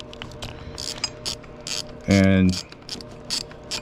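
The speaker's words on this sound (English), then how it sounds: "I'm taking out the power steering bolt now. So you just screw it out just like this." A ratchet wrench loosening the power steering bolt on a GM 3.8L supercharged engine, quick clicking strokes close up, then a louder whirring spin partway through, with a brief spoken word.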